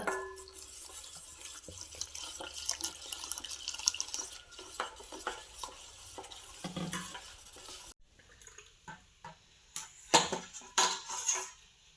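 Warm water is poured while making sesame juice, a continuous rushing and splashing for several seconds, then a pause followed by a few close clinks and knocks of a vessel.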